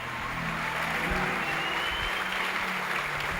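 A church congregation at a conference applauds loudly and steadily throughout, a dense wash of many hands clapping with faint music or voices underneath.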